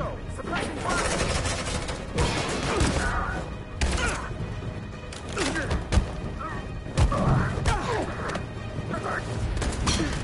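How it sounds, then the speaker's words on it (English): Suppressing gunfire in a Detroit: Become Human firefight, scattered bursts, thuds and crashes spread across the scene beneath frequent shouting voices. "Suppressing fire!"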